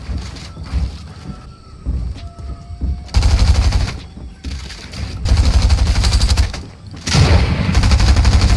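Rapid bursts of gunfire from a shotgun fight in Fortnite Chapter 3, loud and close, coming in three heavy stretches with brief gaps between them, over a steady game backdrop.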